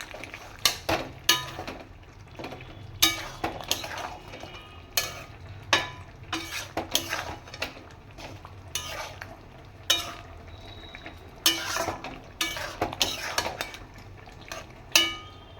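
Chicken being stirred in a pan with salt, a utensil scraping and clanking against the base in repeated irregular strokes, close and moderately loud, with no talking.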